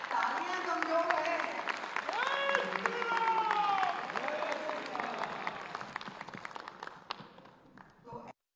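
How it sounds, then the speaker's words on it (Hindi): An audience at a public address gives thin, scattered applause, soft claps pattering beneath a man's loud, amplified speaking voice and thinning out toward the end. "तालियां कमजोर है।"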